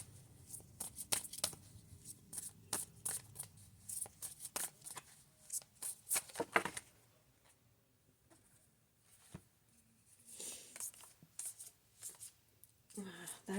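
Cards of a Wild Unknown tarot deck being shuffled by hand, a run of quick crisp riffling bursts close by, pausing midway, then resuming in softer bursts, with a person talking in between.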